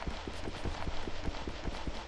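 Horse hooves clip-clop in the blocky survival game TerraFirmaCraft for Minecraft, a steady run of soft, evenly spaced hoof thuds, faint and low under a constant hiss, with no talk.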